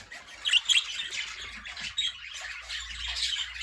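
Budgerigar cocks in a breeding aviary chirp and squawk continuously, a busy overlapping chatter of several birds with sharper bursts near the start, no talking.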